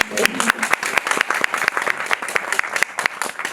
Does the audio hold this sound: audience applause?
yes